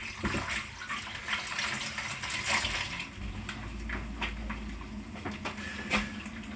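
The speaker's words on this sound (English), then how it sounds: "Just wash my hands real quick." Tap water runs while hands are washed in a home kitchen during bread baking, a moderate, fluctuating splash with small clinks and knocks scattered through it and no voices.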